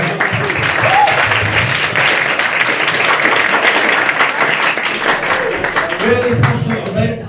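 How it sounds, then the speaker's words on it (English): An audience at a debate event applauds the debaters, dense sustained clapping from a sizeable crowd with voices mixed in throughout, loud and continuous. "let's give all our frontliners a massive round of applause for putting themselves out there."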